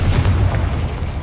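Confringo spell blast in the Hogwarts Legacy video game: a single loud, deep booming explosion that rolls on for about a second, with no voices.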